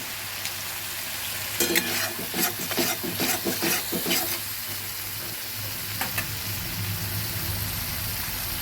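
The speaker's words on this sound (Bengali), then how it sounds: "তাই একটু জল দিয়ে নেড়ে দিচ্ছি।" Powdered spice paste with a little water and salt is stirred in a pan for a tengra fish curry. Rapid scraping strokes rasp over a steady frying sizzle, come in a cluster, pause, then briefly return, with no voices.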